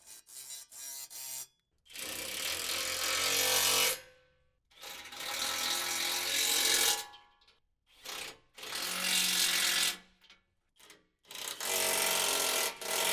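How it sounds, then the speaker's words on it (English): A ratchet tightens the bolts on a front skid plate of a 5th-generation Toyota 4Runner, heard as several separate bursts of rapid, close clicking with short pauses between them. "Now we'll just go around and tighten them down."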